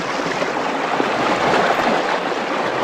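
Fast-flowing water of the Nictaux River rushes steadily and loudly close by, a dense continuous roar with no break.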